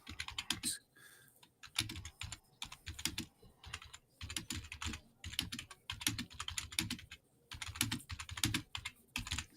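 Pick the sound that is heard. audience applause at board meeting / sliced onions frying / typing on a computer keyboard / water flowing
typing on a computer keyboard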